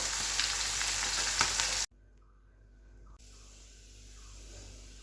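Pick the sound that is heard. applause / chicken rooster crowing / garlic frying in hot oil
garlic frying in hot oil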